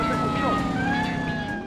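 A police car siren wails close and loud during a chase in the video game Driver 2, its rising and falling tones layered over car engine noise in a brief burst.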